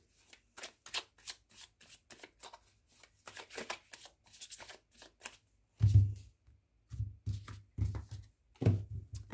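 Tarot cards being shuffled by hand before a reading, a close series of quick riffling bursts in an uneven rhythm, with a few heavier thumps as the deck is squared and tapped.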